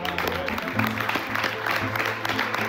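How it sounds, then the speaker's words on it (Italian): Diners at a long communal banquet table clap together, a steady patter of applause at moderate volume with voices and a tonal hum running underneath throughout. "il minimo è fargli un grosso applauso"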